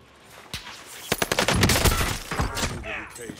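Rapid bursts of gunfire crack in the Warzone video game, close and loud shots in quick succession with heavy echoing fire, while players talk over it.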